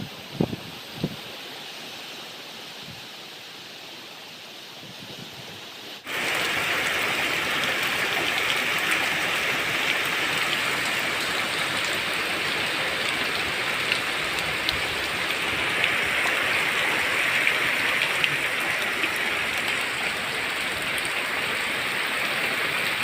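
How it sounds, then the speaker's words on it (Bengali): Torrential rain driven by storm wind during Cyclone Remal in the Sundarbans area sets in suddenly after a few quiet seconds, then pours as a steady, dense hiss that fills the rest of the stretch. "প্রচুর পরিমাণ মুষলধারে বৃষ্টি হচ্ছে, তেমনও ঝড়ো বাতাস বইছে।"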